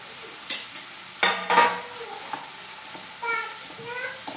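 Capsicum, carrot and beans are tossed and stirred in a hot pan, with several sharp scraping strokes and soft sizzling between them, close by; a few brief voice sounds are heard faintly near the end.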